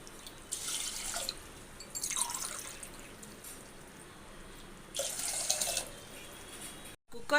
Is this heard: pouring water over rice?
yes